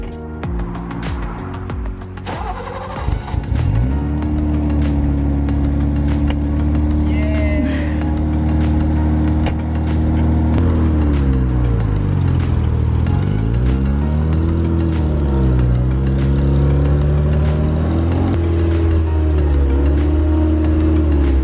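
A BMW E28 engine catches after a fuel pump relay fix and runs loud and close, settling into a steady idle with several rising and falling revs.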